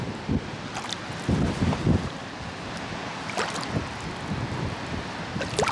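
Strong wind gusting at a Jeju seaside, low broadband rumble and buffeting against the microphone with rough surf in the background, steady and fairly faint throughout.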